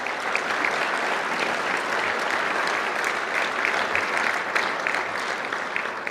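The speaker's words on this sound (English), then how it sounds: "Let's have another round of applause for all of our Hall of Famers in attendance." Sustained applause from an audience at a bowling Hall of Fame induction ceremony, a dense even wash of many hands clapping throughout, moderately loud and without pause.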